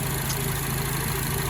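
An Acura TSX with a custom exhaust sits idling, its low, even drone steady and close for a second and a half, with no speech or other sounds breaking in.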